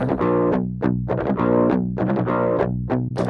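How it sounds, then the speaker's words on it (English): An electric guitar played through an overdrive pedal, chugging palm-muted metal riffs with gritty, saturated tone, loud and upfront with no voices. "That's what the overdrive pedal does. It gives you more mids and some distortion already on the DI."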